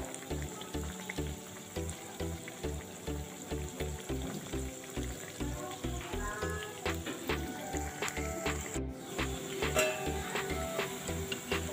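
Lentil pakoras sizzle in hot oil with a steady soft bubbling crackle, under a regular rhythmic thumping in the background.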